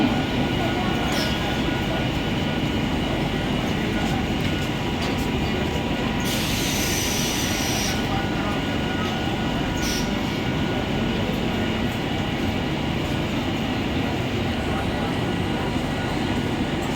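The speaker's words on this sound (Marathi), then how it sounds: "प्लॅटफॉर्म क्रमांक 2 वर आलेली लोकल 7:08 मुंबई छत्रपती शिवाजी महाराज टर्मिनसला जाणारी हिंदी लोकल आहे" A Mumbai local train stands at a station platform, its steady rail rumble and rolling-stock noise filling the clip with a brief wheel squeal partway through, while a voice faintly carries over it.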